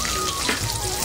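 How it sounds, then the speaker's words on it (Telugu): Cumin and mustard seeds hit hot oil in a pan, giving a short burst of steady, crackling sizzle throughout. "ఆయిల్ వేడెక్కిన తర్వాత జీలకర్ర, ఆవాలు,"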